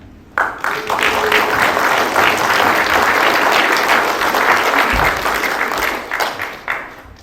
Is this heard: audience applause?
yes